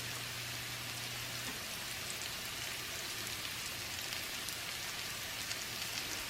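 Tarragon and potatoes sizzling in hot oil in a pan, a steady, even hiss with no pauses and no talking.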